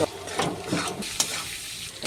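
Turmeric and chili powder fry in a pan for lentil tadka, a soft, steady sizzle with a few scraping stirs, close and fairly quiet.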